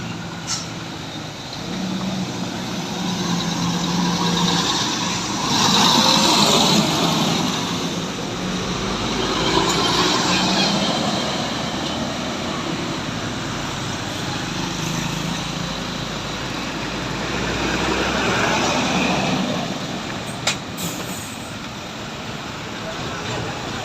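A bus passing along a road in Tanjung Pura, Aceh Tamiang, after flooding, a loud continuous engine rumble swelling and fading over a long stretch, with voices talking over it.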